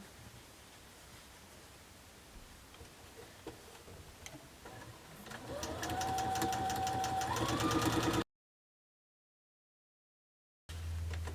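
A sewing machine stitches quilt sashing strips onto blocks, starting faintly and then running as a steady, close mechanical whir with rapid ticking for a couple of seconds, followed by a brief gap before it resumes.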